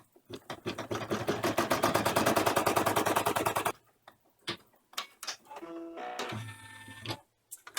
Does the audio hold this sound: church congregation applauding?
no